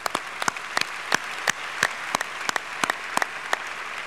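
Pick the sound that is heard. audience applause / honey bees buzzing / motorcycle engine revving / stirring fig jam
audience applause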